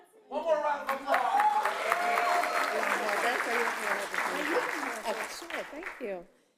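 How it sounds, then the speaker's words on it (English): An audience at the NYCETC Opportunity Awards ceremony gives a round of applause as an honoree walks out, steady clapping for about six seconds with a voice speaking over it before it tapers off. "One more round of applause"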